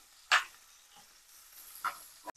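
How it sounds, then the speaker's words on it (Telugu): Onions with green chillies fry in a pan for gongura chicken, giving a faint steady sizzle broken by a few sharp scrapes and stirs of the spoon; no talking. "ఆనియన్ కొంచెం గోల్డెన్ కలర్ వచ్చేదాకా ఫ్రై చేసుకోవాలి."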